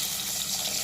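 Water is poured from a glass into a pan for tomato bath, a short continuous splashing stream at moderate level with no voices.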